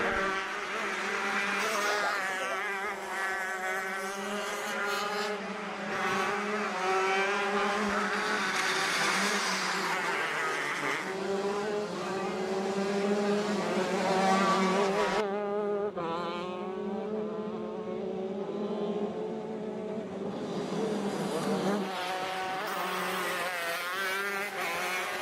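Four-stroke racing karts run on track at Adams Motorsports Park during a league race, engines buzzing and rising and falling in pitch as they pass nearby. The steady mechanical whine continues for the whole stretch with no talk.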